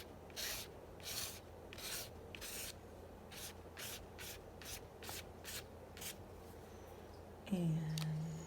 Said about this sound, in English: I'm just dabbing a tiny bit of gesso, and then I'm just going to kind of scrape it in a couple places.